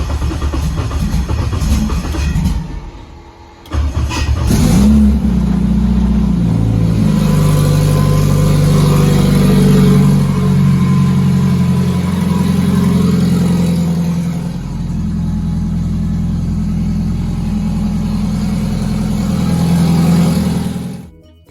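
A Honda K24 engine with a Haltech setup cranks and fires up after a brief pause, then settles into a loud, close rumbling idle with a few revs rising and falling before easing off.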